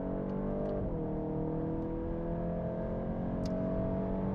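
A VW Golf 8.5 GTI Clubsport cruises at high speed on the Autobahn, its engine holding a steady drone inside the cabin with a brief dip in pitch early on and constant road and wind roar.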